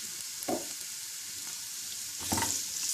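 Previously boiled potato is added to carrots cooking in a pan over a low flame, giving a soft sizzle with two brief bumps of stirring or dropping and no voices.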